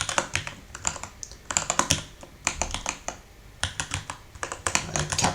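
Rapid bursts of keystrokes on a computer keyboard, typed in quick clusters with short pauses between, close and fairly loud with no talking.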